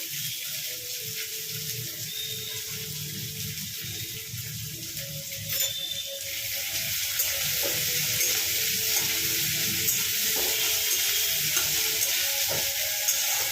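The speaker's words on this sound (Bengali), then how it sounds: "পেঁয়াজটা একটু ভেজে নেবো।" Onion frying in a pan for chowmein, a continuous soft sizzle with occasional scraping stir strokes, close and steady throughout with no talking.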